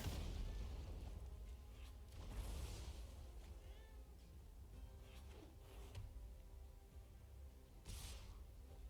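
A cat gives a few short meows that rise and fall, faint and somewhat distant, over a low room hum with scattered soft knocks.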